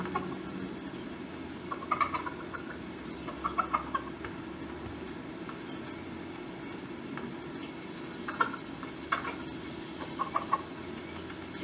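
A chicken in the Fortnite video game clucks in several short bursts spaced a few seconds apart over a steady low background hum, with no one talking.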